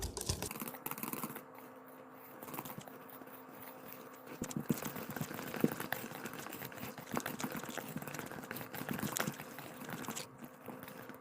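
Tofu sponge cake batter with flour and baking powder being mixed by hand in a bowl, a busy run of close tapping, scraping and wet clicking strokes with no talking.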